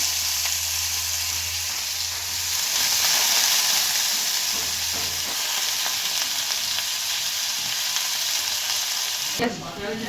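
Small diced potato frying in a little hot oil in a kadai, a steady bright sizzle running throughout with faint stirring clinks, cut short by a brief clatter near the end.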